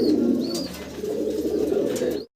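Low, soft cooing of American Lakha pigeons fills the clip in a steady murmur, with a few faint higher chirps over it before it cuts off abruptly.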